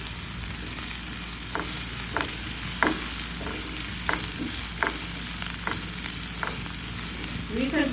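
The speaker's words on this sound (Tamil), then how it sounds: "வெங்காயத்தை நல்லா வதக்கிட்டேன்." Onions sauté in a pan with a loud, steady sizzle, punctuated by regular clicking scrapes of a spatula stirring them.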